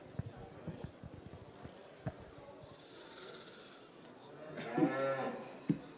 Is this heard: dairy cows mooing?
yes